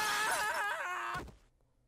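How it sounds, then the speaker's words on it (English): Glass panes of a glass bridge in a Squid Game-themed video game shatter in a brief crash, following a short wavering tone, then fade to near silence. "The weaker glass should shatter if I drop fire bars at a high frequency."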